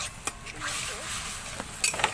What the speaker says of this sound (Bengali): খানিকক্ষণ আমি টমেটোটা নাড়াচাড়া করে নেব।